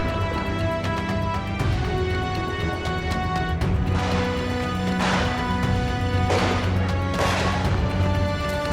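Rifle shots ring out during a wild boar hunt, several sharp cracks spaced a few seconds apart, loud against a constant background of music-like tones.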